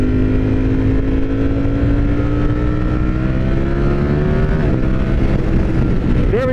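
A 2021 Ducati Streetfighter V4S motorcycle engine wails at high, slowly climbing revs during a wheelie, loud and continuous with wind rush, then a brief dip and a rising blip near the end.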